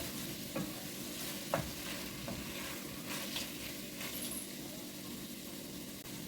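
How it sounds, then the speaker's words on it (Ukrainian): Vegetables for Zakarpattia-style lecho sizzle steadily in a pan while a utensil stirs them, producing faint scraping clicks over a continuous soft frying hiss. "Трошечки перемішую, обсмажую."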